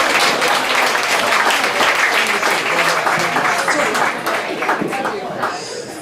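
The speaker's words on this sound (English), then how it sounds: "And everybody give a round of applause for Tom Myers" A live audience at a 2015 Hopewell cancer benefit comedy show applauding for comedian Tom Myers, with loud, dense, continuous clapping and crowd voices mixed in that taper slightly toward the end.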